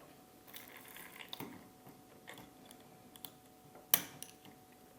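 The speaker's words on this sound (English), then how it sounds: "take our ball link pliers right here and pop off these rotor head linkages like so" Ball link pliers popping off the rotor head linkages of a Blade Revolution 235 CP RC helicopter, a few faint scattered clicks and small snaps, then one sharp louder pop near the end.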